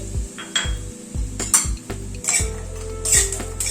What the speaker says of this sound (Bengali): ভালো করে লাল করে ভেজে নিচ্ছি